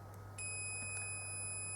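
A multimeter's continuity tester gives one sustained, steady electronic beep as its two probes touch across a pair of contacts, heard close and alone over a faint low mains hum.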